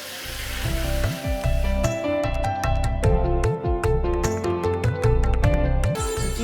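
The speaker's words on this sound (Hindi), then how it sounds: "यहाँ पर मैं इसको सिर्फ सौते करके रखती हूँ" Chicken sautéing in a pan for sesame ginger chicken gives a continuous loud sizzle with scraping stirs and clinks, with steady background music over it.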